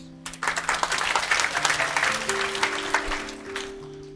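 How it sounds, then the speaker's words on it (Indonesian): Steady applause from a church congregation during an Indonesian sermon, swelling quickly and holding as a dense, close clatter of many hands for several seconds before thinning out, with sustained organ or keyboard tones underneath. "Ini tepuk tangan"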